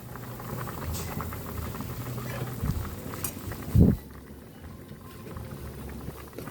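Sinigang with pork lechon, okra and kangkong boiling in a pot, a steady close bubbling and simmering with a light clink of a utensil against the pot midway.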